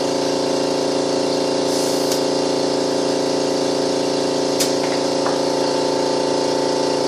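An air compressor runs with a loud, continuous mechanical drone and hiss while inflating a car tire through its valve stem, a few brief sharp clicks or air bursts cutting through the steady noise.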